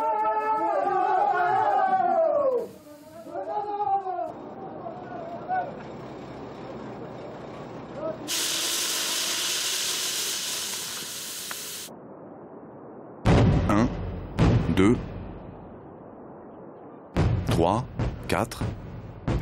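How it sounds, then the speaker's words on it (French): Dynamite charges detonate one after another inside an aquamarine gemstone mine in Pakistan, giving several sharp, loud blasts in quick succession after a stretch of rumbling noise, with voices talking earlier. "Les mineurs comptent une à une les explosions de pain de dynamite."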